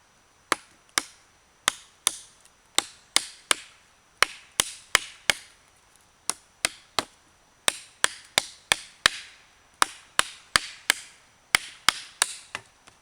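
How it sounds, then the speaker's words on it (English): A Condor Primitive Bush Knife chops wood in a long series of crisp, sharp whacks, irregularly spaced and often in quick clusters, close and clear with no voices. "A knife this size you can chop."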